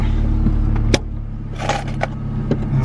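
A Honda EK Civic coupe being driven, heard from inside as a steady low engine hum and road rumble with a few short clicks and rattles, and no talking.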